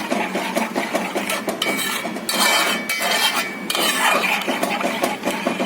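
Custard powder mixture for mango pudding is stirred in a pot, giving close, busy scraping and clinking of a utensil against the metal with a steady, continuous rhythm and no voices.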